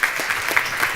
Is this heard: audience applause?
yes